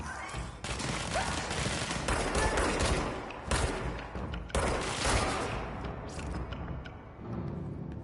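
Rapid gunfire from a gun in a video game crackles in dense, continuous bursts with heavy impacts and brief pauses, loud and close throughout, with no clear talk.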